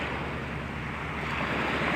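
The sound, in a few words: sea waves breaking on the beach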